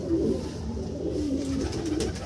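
Pigeons of a slender-necked Chennai Blood breed coo steadily and close by, soft low rolling calls repeating without pause and no one talking.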